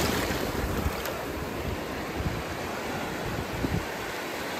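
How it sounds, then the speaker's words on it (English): Ocean surf rolls in and breaks along a beach at Plum Island, a steady roaring wash of waves heard alone over constant wind buffeting the microphone. "Some waves coming in here."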